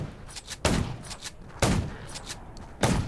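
Gunfire in the zombie survival video game Undawn: three sharp, loud shots spaced about a second apart, each with a short tail, over quiet game ambience.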